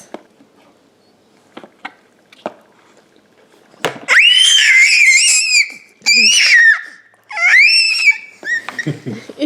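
A baby eating avocado and banana mash lets out several loud, high-pitched squealing screams in bursts after a few quiet clicks and soft sounds, close to the microphone.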